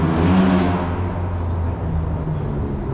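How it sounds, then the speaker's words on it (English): A car engine revs hard close by on a street in Poland, a loud sustained roar that eases slightly but keeps droning throughout. "doing this with the cars, revving the cars high"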